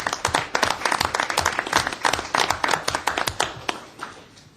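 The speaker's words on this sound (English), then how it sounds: "I'd like us all to acknowledge them with a brief round of applause." A brief round of applause from an audience at a council work session, steady dense clapping that tapers off near the end.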